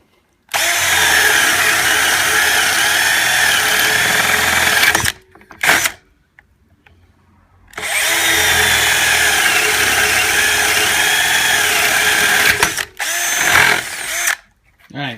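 A Porter Cable 20V cordless drill bores a 5/8 hole, running loud and steady for about five seconds, then again for about five more after a pause, close up with short stops and restarts.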